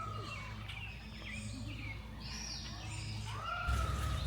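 African birds in an aviary call and whistle faintly with rising and falling chirps and coos, scattered over a steady low background rumble.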